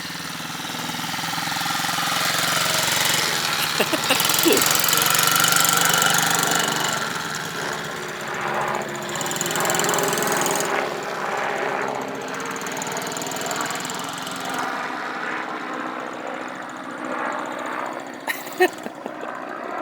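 A dirt bike engine revs loudly and close for the first several seconds, then settles into a lower, uneven idle with a few sharp clicks near the end.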